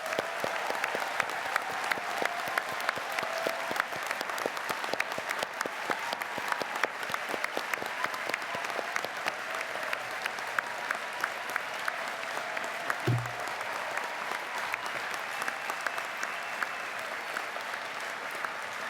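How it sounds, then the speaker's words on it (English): Sustained applause from a large crowd of graduates at a 2024 commencement, steady dense clapping throughout with a faint low thump near the end. "give yourself an applause and don't stop until your heart is filled with applause"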